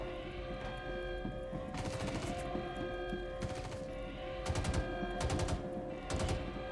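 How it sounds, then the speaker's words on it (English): A Demco machine gun fires several short, controlled bursts of rapid shots in a VR video game, loud and close over a steady background hum. "This Demco is probably one of the best machine guns in the game. Fires pretty damn straight and controlled bursts."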